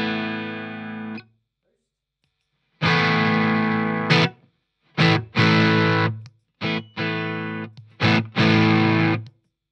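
An electric guitar through a drive pedal plays with gritty overdrive in short chords and sustained bursts separated by brief silences, loud and close.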